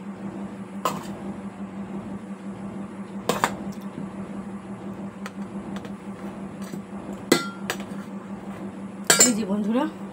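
Rice is packed into a tiffin box in a kitchen, with a few sharp clinks of metal dishes and utensils spaced apart over a quiet background hum, a voice speaking faintly.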